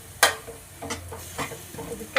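Fenugreek leaf palya with turmeric cooking in a pan, with a spatula scraping and stirring in several separate strokes over a low, steady background.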